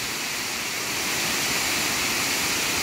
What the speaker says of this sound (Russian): Водопад шикардос